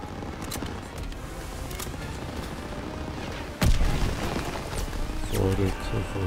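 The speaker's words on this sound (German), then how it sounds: "Werfe Granate!" Grenade blast in Call of Duty WWII, a sudden loud boom partway through, set amid ongoing battle noise with gunfire and voices talking under the action.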